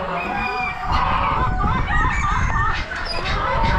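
Rooster crowing at a bird auction among other cockbirds and hens, with a busy, continuous crowd murmur and overlapping calls filling the background throughout.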